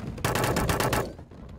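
Rapid automatic gunfire from upgraded troops in the physics battle game Totally Accurate Battle Simulator, a dense crackling burst of overlapping shots lasting about a second before tapering off, loud and with no talk.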